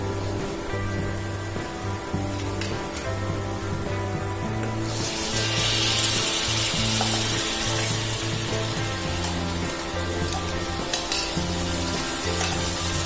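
Boiled mutton pieces tumble into browned, frying masala for a Nagpur-style Saoji curry, a bright sizzling hiss surging midway over a steady low background hum, with scraping stir sounds throughout.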